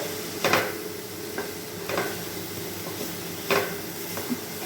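Chicken momo filling fries in a pan under a steady low sizzle, with a spoon stirring and scraping in several soft, spaced strokes, close and fairly quiet.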